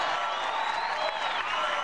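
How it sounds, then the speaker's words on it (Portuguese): A football stadium crowd applauds and cheers a substitute coming on as Rafinha Alcântara replaces Rodrigo Caio, a broad, steady wash of clapping and crowd noise filling the whole stretch. "muito aplaudido aqui pelo torcedor."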